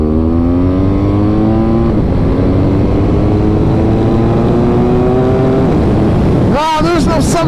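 A BMW R 1250 GS Adventure motorcycle engine running close up, a loud steady drone that rises in pitch through gear changes, with a sharp revving burst near the end.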